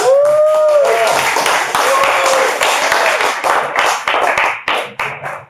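An audience at a standup comedy show in a brewery applauds and claps loudly for a comedian, with a voice calling out at the start over the dense, sustained clapping.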